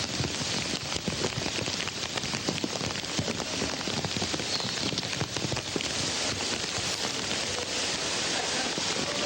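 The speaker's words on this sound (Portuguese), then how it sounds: "eu pensei que não viesse essa chuva toda" Heavy rain pouring down steadily, a loud dense constant hiss of drops on surfaces filling the whole stretch with no pauses and no voices.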